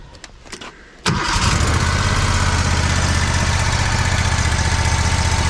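Scag lawn mower engine cranks and fires up without choke about a second in, then settles into a loud, steady, close-up idle rumble that continues throughout.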